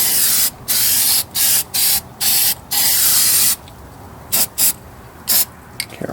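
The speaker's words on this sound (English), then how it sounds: "I'm going to take this Rust-Oleum Rust Reformer, basically Poor Man's POR 15." Rust-Oleum Rust Reformer sprays from an aerosol can onto the fuel pump area of a Chevrolet Corvair, a series of sharp close hissing bursts of varying length with short gaps between them.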